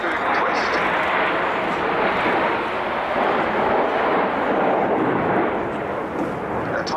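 Red Arrows RAF display jets accelerating to about 400 miles an hour at an air show: a loud, continuous roaring rumble that holds steady throughout, with a commentator talking over it.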